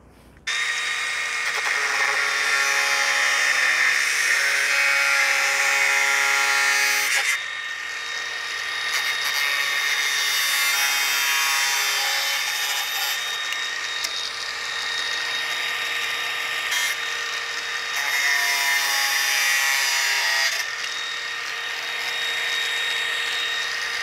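A spinning power tool cuts through a pipe with a loud, high-pitched whine that holds steadily, drops briefly as the load changes, and then surges again, running continuously close by with no talking.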